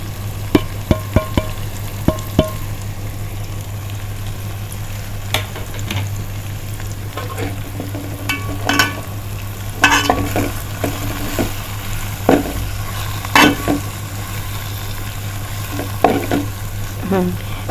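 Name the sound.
stirring spice powders into frying sardine curry masala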